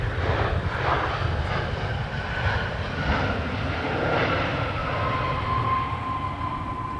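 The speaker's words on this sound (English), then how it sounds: "There's American 2406 off to Dallas, Fort Worth, with another one of its venerable" An American Airlines 737-800 on flight 2406 takes off from Minneapolis–St. Paul toward Dallas/Fort Worth, its jet engines a steady, broad rumbling roar with a faint tonal whine, heard from a distance.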